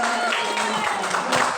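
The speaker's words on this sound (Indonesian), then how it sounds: "mari kita berikan tepuk tangan yang meriah untuk kita semua yang hadir" Audience clapping at a school dissemination event on positive culture at SMPN 4 Rancaekek, a steady, fairly loud burst of applause from a room of people, with a faint voice partly audible beneath it.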